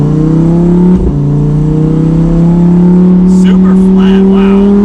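A 2020 Lamborghini Huracan EVO Spider's engine and exhaust drone steadily while driving, loud and close, with a faint voice talking briefly near the end.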